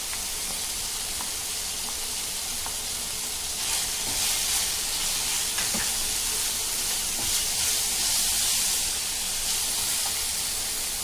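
Minced keema fries in a hot pan as spices go in, giving a steady close sizzle that swells slightly midway with faint stirring scrapes.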